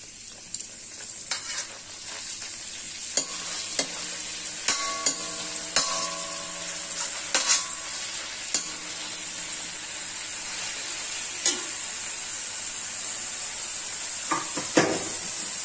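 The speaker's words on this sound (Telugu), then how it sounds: "ఈ ఆయిల్ కాగిన తర్వాత మనం సన్నగా తరిగిన ఉల్లిపాయల్ని వేసుకుంటాం" Thinly sliced onions fry in hot oil for a paneer butter masala, making a steady close hiss broken by scattered sharp crackles and the occasional clack of a spoon stirring the pan.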